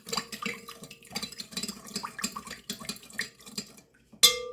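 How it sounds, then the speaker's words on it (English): A spoon stirs sugar into warm water in a bowl, giving a quick run of close scraping and clinking strokes against the bowl in an irregular rhythm, ending with a brighter ting. "A half a cup of sugar. I'm just going to stir that up a little bit."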